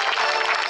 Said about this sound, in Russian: Аплодисменты всем тем, кто их делал